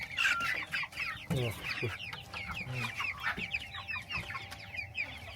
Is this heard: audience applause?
no